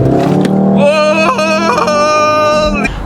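A Volkswagen Golf R engine is held at high revs in launch control, giving a loud, close, sustained tonal drone that climbs in pitch and then drops away near the end.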